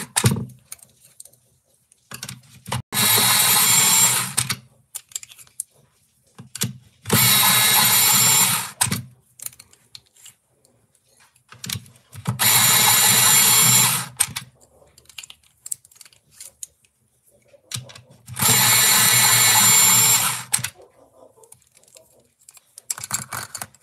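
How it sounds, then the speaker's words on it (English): An electric pencil sharpener grinds colouring pencils in four separate loud bursts of about two seconds each, with quiet gaps and faint background between them. "I'm going to give them all a quick sharpen first"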